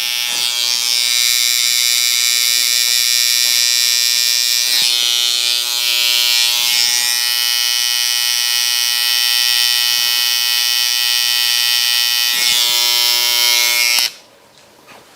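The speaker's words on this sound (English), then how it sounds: "So that's in with the trimmer." Electric hair trimmer buzzing close up while cutting hair during a fade, a loud steady whine with brief dips as the clippers move, then stopping suddenly near the end.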